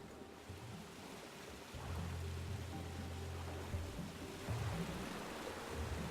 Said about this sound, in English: why does it still sound like running water down here?